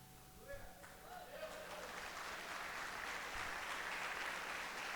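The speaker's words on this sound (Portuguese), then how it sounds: "Se é para Deus, aplaude mesmo." Church congregation applauding, a broad steady wash of clapping building and holding over the whole stretch, fairly distant, with faint voices mixed in.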